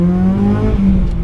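A car fitted with a Tegiwa full exhaust and Tein coilovers pulls away on a sunny day, its engine note rising in loud, close harmonic tones that climb steadily before easing off near the end.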